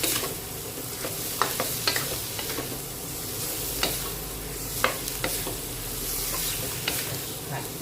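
Cucumber and egg stir-fried in a pan with sugar, a steady sizzle broken by repeated clicks and scrapes of a spatula tossing the food.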